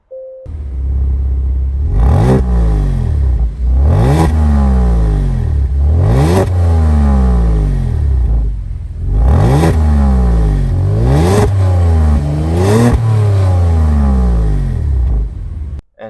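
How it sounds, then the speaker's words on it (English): A 2023 Genesis G70 3.3T fires up with a brief starter catch, then revs hard again and again, about six loud, close rising-and-falling sweeps with short pauses between them. "Getting into this Genesis, let's fire it up."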